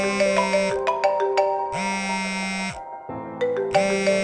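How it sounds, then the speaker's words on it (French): A mobile phone rings with a repeating electronic melodic tone in regular bursts and short pauses, loud and close, with no one speaking. "C'est à ce moment-là que le téléphone de Thomas sonna"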